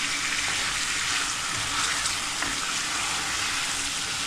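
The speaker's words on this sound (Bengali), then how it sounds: "এই তো মাছের মাথাটা দিয়ে মশলাটাকে কষাচ্ছি।" Fish head sautéing with spice paste for a Sylheti-style murighonto dal, giving a steady, close, moderately loud sizzle with a broad hiss that runs unbroken throughout, without any voices.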